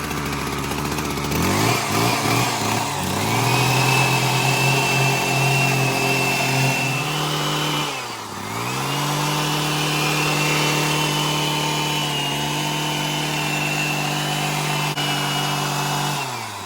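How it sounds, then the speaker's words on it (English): A Husqvarna 122HD60 hedge trimmer runs loud and close while trimming shrubs. The engine drone holds steady with a brief dip near the middle, and no one talks. "I'll do some trimming here, and then I'll go over there and do some trimming"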